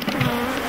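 Thousands of honey bees pour out of opened hives at an African apiary, filling the air with a thick, loud, unbroken buzzing close at hand.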